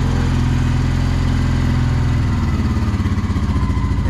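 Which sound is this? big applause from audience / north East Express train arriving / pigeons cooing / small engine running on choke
small engine running on choke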